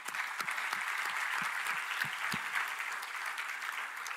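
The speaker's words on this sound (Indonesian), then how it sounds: "Kita beri tepuk tangan bagi Tuhan." A church congregation claps together in praise during a Sunday worship service, a dense, sustained burst of applause with occasional sharper individual claps standing out throughout.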